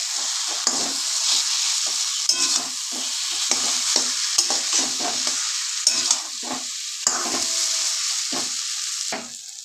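A thick pumpkin curry with hilsa fish head being stir-fried: a steady, loud sizzle with repeated scraping and clattering stirring strokes throughout, near and with no talking.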